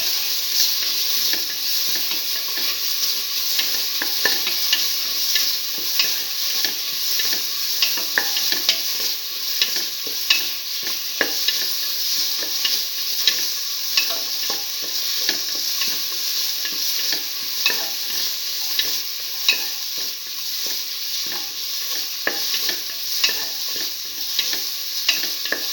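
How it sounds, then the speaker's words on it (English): Tomato pieces with salt sauté in a pan, giving a continuous close, loud sizzle with constant rapid scraping and clicking from stirring throughout. "keep on sauteing."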